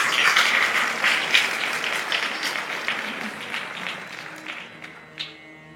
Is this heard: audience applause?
yes